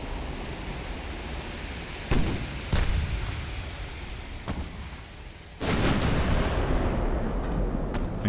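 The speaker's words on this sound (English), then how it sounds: "here comes the battleship's 15-inch guns firing on me now" A battleship's 15-inch guns fire in the naval video game Ultimate Admiral: Dreadnoughts, heard as deep booming blasts over a constant roaring sea-like noise, with a heavier salvo swelling near the end.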